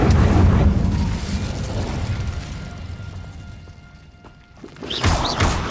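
The Incendio fire spell cast in Hogwarts Legacy, a loud roaring whoosh of flame that fades out over several seconds before a second crackling burst flares up near the end.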